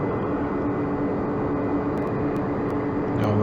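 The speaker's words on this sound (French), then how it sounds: "Je vais essayer un hélicoptère sur New York." Helicopter cruising over New York in the X-Plane 11 flight simulator, a steady, dense rotor and engine drone holding at constant loudness throughout with no pauses.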